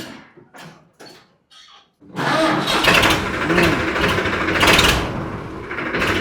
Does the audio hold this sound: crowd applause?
no